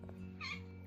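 Pet cat purring in a low steady rumble close by, with a single short meow rising over it, all faint and near.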